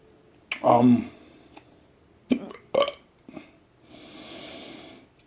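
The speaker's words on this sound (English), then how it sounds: "Oh, got the hiccups now." A man eating fast food hiccups, with a few sharp, close vocal jolts spaced unevenly over a few seconds, the first loudest, followed by quiet breathing.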